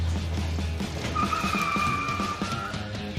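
A front-wheel-drive Cadillac brakes hard, its tires letting out a sustained high squeal for a couple of seconds over the low engine and road noise.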